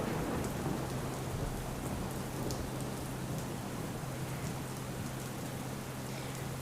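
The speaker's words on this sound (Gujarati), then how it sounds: "અમદાવાદમાં પણ 2 દિવસથી વરસાદ વરસી રહ્યો છે" Steady rain pours in Ahmedabad during the monsoon, a dense, continuous hiss of drops on surfaces with an even low rumble underneath, with no voices.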